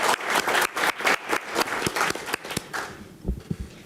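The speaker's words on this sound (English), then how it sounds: "Let's give her another round of applause." A small audience at a city commission meeting gives scattered, rhythmic applause for a Girl Scout project, individual claps clearly separated and thinning out toward the end.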